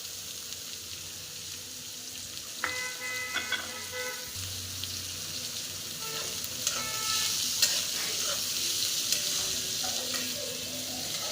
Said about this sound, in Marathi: कांदा देखील बारीक गॅसवर मस्त असा लालसर रंग येऊपर्यंत परतून घ्यायचा आहे